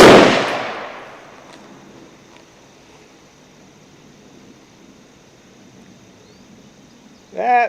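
A single sharp rifle shot from a DSA 58 Yankee FAL cracks at the very start and rings out into a decaying tail, then near-silence follows until a brief muffled rise at the end.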